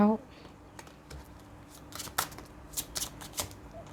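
A tarot deck is shuffled and cards are drawn and laid down, giving close, crisp riffles and snaps that cluster toward the end, after a brief voice at the start.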